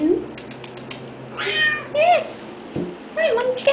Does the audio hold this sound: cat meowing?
yes